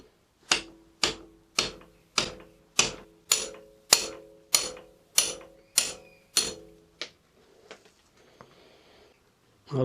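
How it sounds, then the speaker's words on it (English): A series of about eleven sharp metallic hammer blows at a steady, even pace, close and loud, knocking out a bar end weight on a Honda NX500 motorcycle handlebar, followed by a few faint clinks and quiet handling. "get yourself a hammer and basically knock it out that way."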